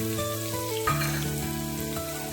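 Chopped onions frying in a pan for spinach curry, a steady close sizzle with a brief bump partway through and no talking.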